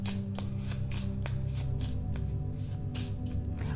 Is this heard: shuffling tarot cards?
yes